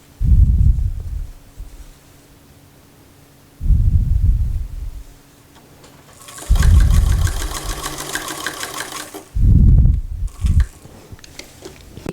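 A home sewing machine stitches fabric for a McCall's 8212 housedress or nightgown, running in four separate loud, whirring bursts with quiet pauses between them and no talking.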